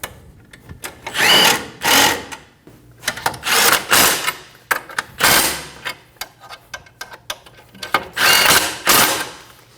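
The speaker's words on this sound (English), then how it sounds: "Snug the nuts down." A power tool snugging down the ball joint nuts on a Volkswagen Passat front steering knuckle gives repeated short whirring bursts in an irregular rhythm. It is loud and close, with no talking.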